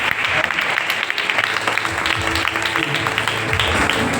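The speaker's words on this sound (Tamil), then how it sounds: "பிள்ளைகளுக்கு ஜோரா ஒரு கைத்தட்டு." Guests at a church wedding applaud the children, a steady, fairly close round of clapping lasting about four seconds with some voices mixed in underneath.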